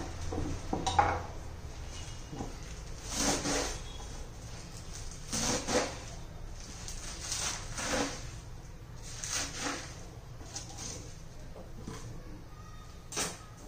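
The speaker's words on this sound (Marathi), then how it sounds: "त्यासाठी एक गड्डी मी पालक घेतलेली आहे. ती आपण आता बारीक चिरून घेऊया." A bunch of spinach being chopped finely with a knife for spinach parathas, heard as irregular, fairly soft knife strikes against a board with short pauses between bursts and no talking.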